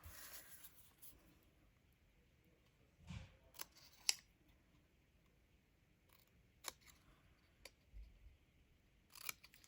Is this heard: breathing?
no